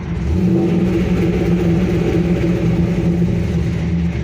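A car engine revs and is held steady against an MSD two-step launch limiter: a loud, continuous droning rev heard up close, with no talk.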